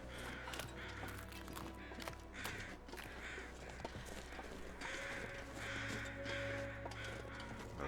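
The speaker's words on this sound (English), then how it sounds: "Another bunch of flock of crows crossed overhead." A flock of crows caws overhead in The Long Dark, with repeated rough calls overlapping at moderate distance over steady outdoor ambience and no speech.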